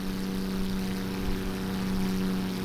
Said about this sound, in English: the kind of flyby noise on both of them, I think, could be a little bit better